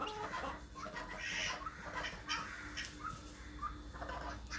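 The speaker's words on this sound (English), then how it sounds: "Miss Hen, say hi." A hen clucks in a home garden, soft repeated clucks and short calls scattered over several seconds against a steady low background hum, fairly faint and close.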